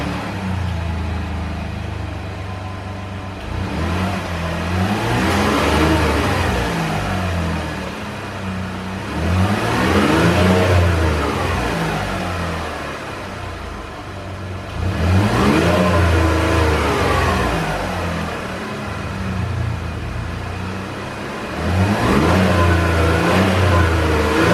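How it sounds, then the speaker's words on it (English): Stock 2017 Chevy Colorado pickup engine running close by, with several rising and falling revs over a steady idle, no talk. "I'm gonna start the truck, and so we can compare the sounds before and after"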